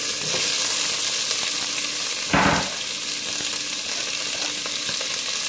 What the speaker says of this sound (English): Alright, so the olive oil is nice and hot. Smell it. I'm gonna throw these onions in there.